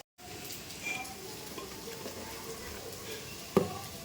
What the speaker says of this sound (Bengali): তো ওর জন্য আবার আমি এখন আলু ভাজা করছি।